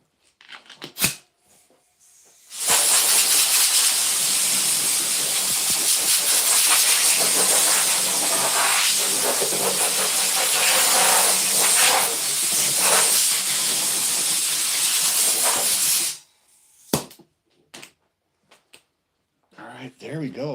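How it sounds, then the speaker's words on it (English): An air blower hisses loudly and steadily for about thirteen seconds while air is forced into a mold to pop out a retro chair, with brief knocks before and after. "don't know where my air blower is"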